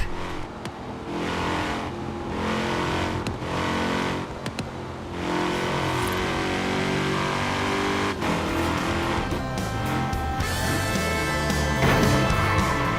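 A car engine revs and drones steadily in a racing game, with a thin, high-pitched supercharger whine riding on top, loud and continuous.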